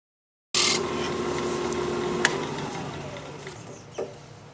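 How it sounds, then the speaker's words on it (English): A round nose scraper cuts steadily across an oak-root bowl spinning on a wood lathe, giving a continuous, close hiss and rasp over the motor's hum, with a few brief sharper ticks. "Probably about thin enough by the time I scrape this."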